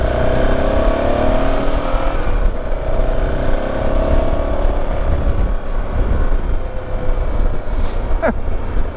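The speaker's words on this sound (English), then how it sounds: "sitting down on the job and riding a motorcycle all at the same time" A BMW G650GS single-cylinder motorcycle being ridden through town streets, its engine droning steadily and loud throughout with rising and falling harmonics as it accelerates, plus a brief higher whine near the end.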